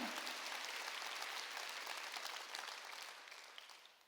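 A church congregation at a Wednesday worship service claps together in a dense, steady burst that gradually thins out over a few seconds, close and alone.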